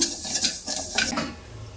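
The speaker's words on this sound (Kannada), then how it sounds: "ನಾನು ಅಕ್ಕಿನ ಒಂದು ಹಿಡಿಯಷ್ಟು ಹಾಕಿದ್ದೀನಿ. ಹುರ್ಕೊಳ್ಳೋಣ, ಬರೋವರೆಗೂ ಹುರಿಬೇಕು." A handful of rice is stirred and scraped around a hot pan as it roasts. Close, dry rustling and clinking strokes fade over a couple of seconds, with no voices.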